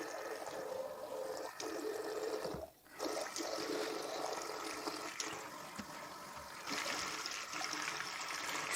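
A cleaning cloth is rinsed under a running tap during descaling and disinfection work, giving a steady, fairly faint trickle and splash of water that continues throughout, with one brief dip partway through.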